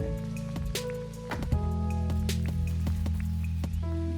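A water feature fountain in the game Dinkum makes small, repeated drips and splashy clicks over steady tonal game music. Several drops land close together near the middle, then scatter irregularly.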